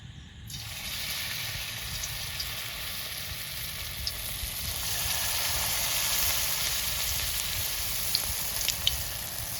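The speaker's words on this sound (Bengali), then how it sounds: "তেলটা গরম হয়ে গেছে, তো একটা একটা করে তেলের মধ্যে পকোড়াগুলো ছেড়ে দেবো।" Steady sizzling hiss of soybean pakoras frying in hot oil, with a few sharp pops and crackles near the end. No voices.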